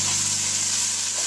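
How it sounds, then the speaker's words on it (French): Dry white wine hits toasting risotto rice in a hot pan, producing a steady, close, bright sizzle and hiss throughout the brief moment. "Quand on est prêt, on verse un verre de vin blanc sec"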